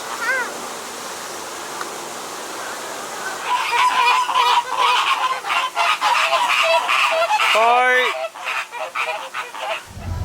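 Flamingos at SeaWorld Orlando honk in a noisy, overlapping chorus over a steady rush of water, with a few louder nearby calls standing out.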